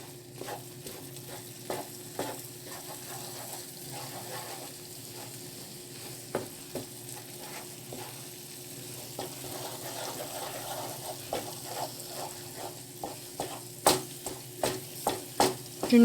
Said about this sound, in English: Maybe this will take 3 or 4 minutes. Continue to stir.